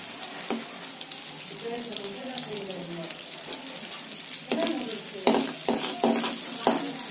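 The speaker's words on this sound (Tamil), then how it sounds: "பட்டர் மெல்ட் ஆயிடுச்சு" Butter cubes melting in a pan for Hakka-style millet noodles give a steady, moderate sizzle and crackle, with a few louder clicks and utensil taps toward the end; no talk is heard.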